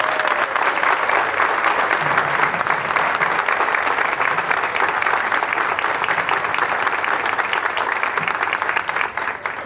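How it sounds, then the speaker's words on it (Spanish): Dense, sustained audience applause fills a hall at a Frente Amplio political event, steady and loud throughout before easing slightly at the end. "Está bueno que lo aplaudan"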